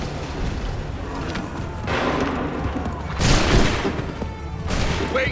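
Musket volleys in Assassin's Creed III crack out as several loud, dense bursts of massed gunfire, with rolling booms, over a continuous battlefield din.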